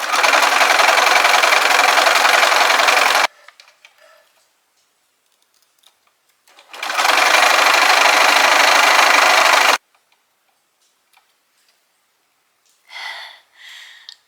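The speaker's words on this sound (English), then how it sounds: "if you go with a zigzag stitch, it will be more flexible" A sewing machine runs zigzag stitching on a T-shirt in two loud, steady bursts of about three seconds each, separated by quiet handling noises, with a brief faint rustle near the end.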